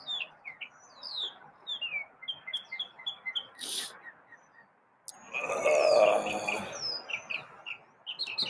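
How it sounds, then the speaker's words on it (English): Several small birds chirp and tweet in quick repeated bursts outdoors in the morning, fairly faint, with a rustling, clattering disturbance midway and a voice briefly mixed in. "I think I got more than just Chirpy going on. Chirpy brought some friends back"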